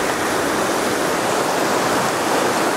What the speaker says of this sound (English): This river is moving much, much, much too fast.